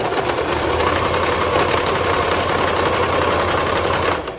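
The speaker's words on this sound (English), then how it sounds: "I'm literally just top stitching over the seam" A sewing machine hums steadily at close range while top stitching over a seam of slim harem pants, running without pause until it slows at the very end.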